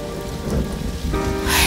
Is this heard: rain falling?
yes